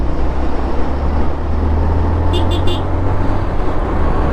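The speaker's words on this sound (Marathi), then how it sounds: "बघा ट्रॅफिक" Steady, loud road-traffic roar heard from a motorbike ride toward Bhandardara's Amriteshwar temple, a dense continuous rumble with a brief cluster of high beeps partway through.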